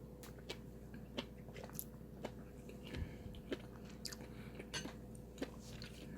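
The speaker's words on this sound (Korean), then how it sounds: "밥하고 같이 먹어보겠습니다" Someone eating spicy beef soup (yukgaejang) with rice, producing soft, quiet chewing and occasional crisp bites and spoon clinks at an irregular pace, very close over a low background hum.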